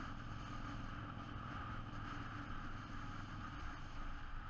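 A motorcycle engine runs steadily and close, a loud continuous rumbling drone with wind rushing across it for the whole stretch.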